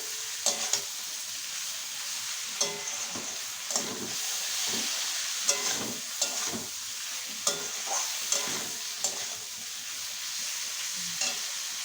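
Taro stolons and prawns fry in a pan under a constant hiss, with repeated gentle scrapes and knocks of a stirring spoon at an irregular rhythm and no talking.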